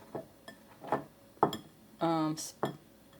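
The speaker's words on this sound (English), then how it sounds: "scrape this out of the skillet into the bowl" A spatula scrapes cooked bacon and spinach out of a skillet into a bowl, giving short clinking and scraping strokes against the pan, each separated by brief pauses, with a person talking between them.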